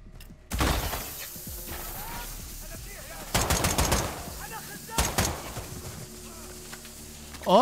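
Shotgun gunfire in the video game Call of Duty Modern Warfare II, a few loud blasts spaced apart over continuous game ambience and effects.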